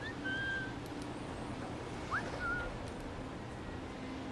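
Whistling in the video game Assassin's Creed 4: Black Flag: a few short, faint whistle tones over a steady low background hum.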